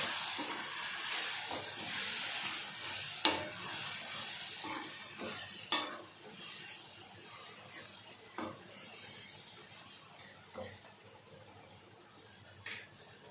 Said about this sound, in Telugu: ఇదంతా కొంచెం సేపు నూనెలో వేగనిద్దాం